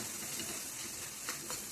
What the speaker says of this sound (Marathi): आपल्याला हे वाटण परतून घ्यायचे आहे